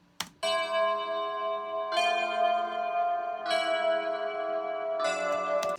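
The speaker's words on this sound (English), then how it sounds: "We have both of the bells. Let's see, that's 8 and 14. I'll just solo those so you can hear what those sound like." Soloed bell layers from a music production track ring out alone, with about four bright, sustained bell strikes that each decay slowly before the next.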